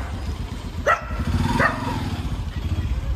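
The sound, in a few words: street dogs barking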